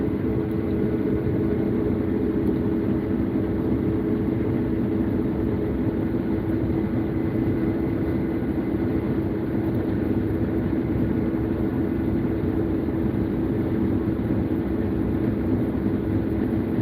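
A combine harvester engine runs steadily under load while threshing, a continuous loud, even drone with mechanical roar and no breaks, heard alone without talk.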